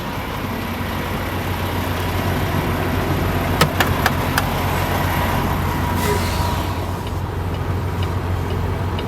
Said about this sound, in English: I always like to release my trailer brakes. Get some air pumping back there.